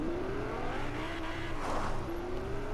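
A car engine drones and revs in the video game Fortnite, a steady near motor tone that rises gradually in pitch with some rushing noise as it accelerates.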